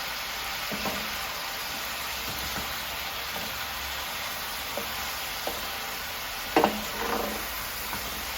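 Beef and mushrooms sauté in a pan over raised heat with a steady, close sizzle throughout. Occasional spoon-stirring scrapes cut through the sizzle, and no one talks.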